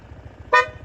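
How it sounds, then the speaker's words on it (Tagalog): A loud aftermarket horn on a Honda ADV 160 scooter gives one short, bright, harmonic blast of about a tenth of a second, up close and alone against faint background hum. "Ito ang loud horn."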